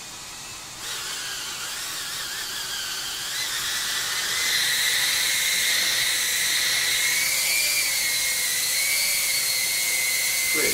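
Small FPV quadcopter propellers spin up indoors into a loud, steady high whine that rises in pitch and holds, with no voices.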